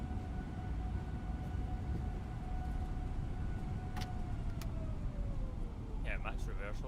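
Simulated Airbus A321neo jet engines roaring steadily in maximum reverse thrust after landing in Microsoft Flight Simulator 2024, a loud continuous rumble with a fading tone and a few clicks, a voice speaking briefly over it.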